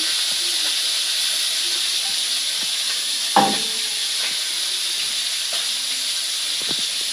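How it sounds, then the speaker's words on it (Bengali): Hilsa fish pieces fry in hot oil in a pan, giving a continuous, even sizzle and hiss that stays steady throughout, with a few faint clinks of a utensil. "তার মানে কি এটা অল্প ভাজতে লাগবে, ইলিশ মাছ তো বেশি ভাজা যায় না"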